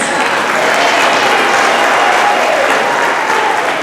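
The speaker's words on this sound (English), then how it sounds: "Let's put our hands together for Randy Chavez." Audience applause fills a talent showcase for seniors at state summer games, a steady dense clapping from a large crowd with no break, loud and continuous throughout.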